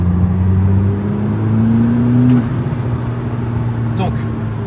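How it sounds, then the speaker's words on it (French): A McLaren MP4-12C sports car accelerating, its engine note rising loud and close, then easing into a steady drone while someone talks over it. "Regardez comment ça accélère."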